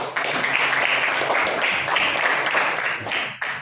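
A classroom full of people clapping together in a steady burst of applause, dense and close, fading out near the end.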